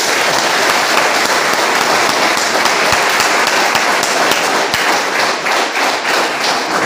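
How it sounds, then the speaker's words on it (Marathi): A large audience applauding loudly after a lecture on Mahatma Basaveshwar, with dense continuous clapping and scattered sharp thumps throughout, no talk. "म्हणून जोरात टाळ्या वाजवा."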